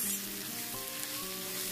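Spices and turmeric fry in a pan with a steady, even sizzle, fairly quiet and close, with no voices over it.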